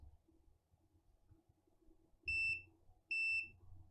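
Two short, high electronic beeps a moment apart, a multimeter continuity tone while testing an Acer E5 laptop with no power, over faint low background noise.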